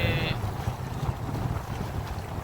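A low engine drone of a speedboat rumbles on with wind buffeting the microphone, steady and close, over the open sea off Obhur beach, Jeddah.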